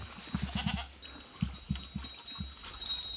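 A day-old baby goat on a farm in Thailand bleats in short quivering bursts, several close cries in quick succession over faint farmyard background, with a soft voice briefly audible.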